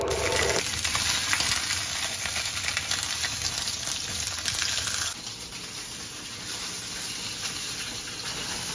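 Fish frying in a pan for a home breakfast gives a steady, dense sizzle that runs throughout, loud and close at first, then settling slightly quieter for the second half, with no talking.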